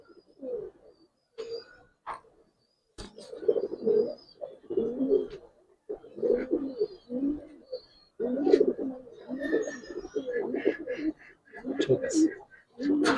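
Silver Giribaz and coloured pigeons cooing up close in repeated soft, throaty bursts, with a few faint chirps and brief clicks between the calls.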